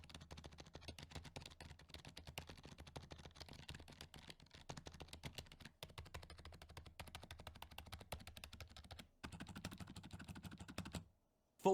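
Rapid, steady clatter of quiet SteelSeries Apex 3 TKL gaming keyboard switches being typed on, soft and muted, continuing for several seconds before a brief pause and a final tap.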